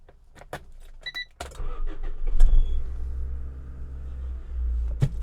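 A hot rod with a Honda engine is started after a few key jingles, then settles into a loud, steady low rumble that idles smoothly close to the microphone, with a sharp clunk near the end.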